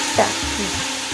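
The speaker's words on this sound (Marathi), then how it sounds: "कढीला फोडणीसाठी थोडं तेल टाकू" A short burst of hot oil sizzling and crackling in a pan as chillies are tempered for kadhi, steady and close.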